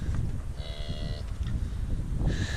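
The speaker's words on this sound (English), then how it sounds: "There's some very nice short-horn cows in this batch." Shorthorn cows on a grazing farm mooing, a couple of drawn-out harmonic calls standing out over a steady windy outdoor background.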